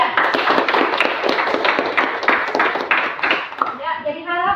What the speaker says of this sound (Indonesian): Kita berikan aplaus untuk kelompok Uluhiyah.